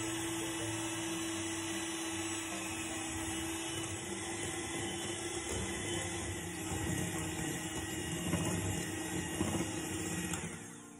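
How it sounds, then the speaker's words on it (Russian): Handheld electric mixer whipping eggs with a pinch of salt and sugar for banana pie batter, a steady close motor whine with a faint beater rattle, cutting off near the end, no talking. "И взбиваю миксером до пышности."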